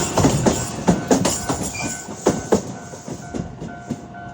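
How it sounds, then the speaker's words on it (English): A Shizuoka Railroad train on the Chibi Maruko line pulls in close by, with steady clickety-clack of wheels over rail joints, a faint squeal and a brief tone. "This is the Shizuoka Railroad here in Shizuoka."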